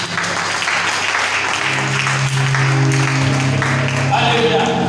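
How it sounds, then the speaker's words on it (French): A church congregation applauds and cheers during a service, a loud wash of clapping mixed with raised voices and a sustained tone underneath, continuing throughout. "Est-ce qu'on va acclamer?"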